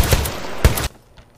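An MG40 machine gun in the Minecraft Decimation mod fires a short, loud burst of a few rapid, sharp shots, then cuts off into near silence.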